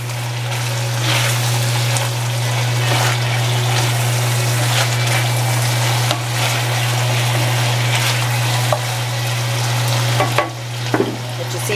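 Vegetables are stirred into a sizzling pot of Asian lamb stew, giving a constant loud frying hiss with scraping and a steady low hum from the stove, with a few clunks near the end.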